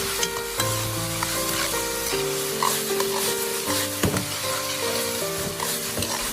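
Chicken breast stir-fried in a hot wok, a continuous close sizzle with scraping stirs and a sharp utensil knock near the middle, heard over light kitchen background tones.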